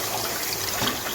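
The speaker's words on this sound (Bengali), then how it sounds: "এখন আমি দুধ দিয়ে দিচ্ছি।" Packet milk, about 1.5 litres, pouring steadily into a pan over caramelised sugar, making a continuous close liquid splash and gurgle with no talk.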